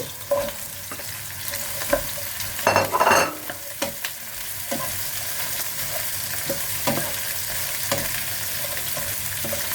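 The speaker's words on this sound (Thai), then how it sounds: "ถั่วนี้ก็ดีอย่างแล้วก็ไม่ต้องไปผัดนาน ผัดแป๊บเดียวก็สุกแล้วจ้ะ" Snow peas being stir-fried in a hot wok, a loud continuous sizzle with a short burst of clattering and tossing near the start and intermittent scraping ticks throughout, with no voice.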